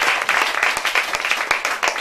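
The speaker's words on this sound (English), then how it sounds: "Please, a better round of applause for him." An audience at a debate on whether English should be a child's first language claps for the best speaker, a dense, fairly loud patter of hands with sharp individual claps standing out.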